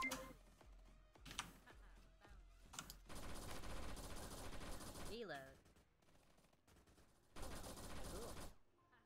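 SMG fire in the video game SmugForce comes as sharp rapid bursts of automatic shots, several clustered volleys separated by short pauses, loud and close with a steady rattling cadence.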